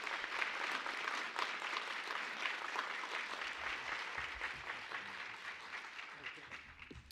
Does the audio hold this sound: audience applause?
yes